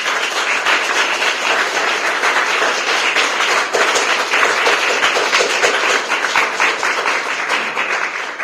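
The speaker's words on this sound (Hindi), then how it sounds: "हम एक धन्यवाद की ताली देंगे" A congregation claps in thanks, a dense, steady wash of many hands applauding together for several seconds, fairly loud and close.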